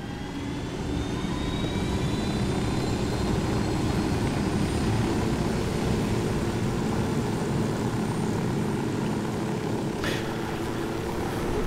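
Helicopter in the video game Ghost Recon Wildlands flying steadily, a loud continuous rotor and engine drone that holds evenly throughout with no talking.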